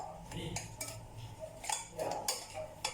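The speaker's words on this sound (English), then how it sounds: "Give it a stir." A spoon scrapes and clinks against a pot while semolina, almonds and dough mixture are stirred into a sweet laddoo mixture, with repeated close scraping strokes and light metallic taps in a quiet kitchen.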